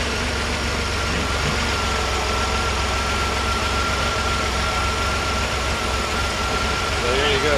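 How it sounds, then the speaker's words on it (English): A 1966 Chevrolet Corvair engine idles steadily, slightly fast, with a low, even rumble and a faint whine, continuous and close. "it's running a lot smoother. It's still idling a little bit fast"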